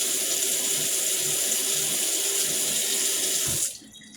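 Water running from a kitchen tap to refill a drink, a steady loud rush that stops abruptly near the end as the tap is shut off.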